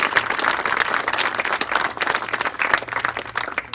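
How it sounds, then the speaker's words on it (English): A crowd claps at an outdoor park ribbon cutting in Gaithersburg, Maryland, a lively, uneven spatter of many hands applauding steadily at close to middling distance. "Let's give them a great big round of applause."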